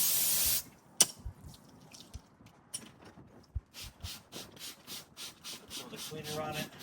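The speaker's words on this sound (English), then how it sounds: "I'm gonna spray a little bit of water on the filter." Water sprayed onto a K&N air filter: a brief hiss at the start, then quiet dripping and a run of short spritzing bursts growing steadier toward the end, close by and faint.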